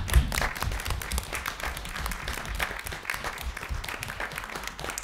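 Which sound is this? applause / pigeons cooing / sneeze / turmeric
applause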